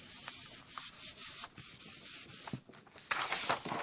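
Repeated rubbing and sanding of a craft tool embellishment on a tool box card, a series of short scratchy strokes in uneven rhythm, close and moderately loud, ending in a longer brisker scrub.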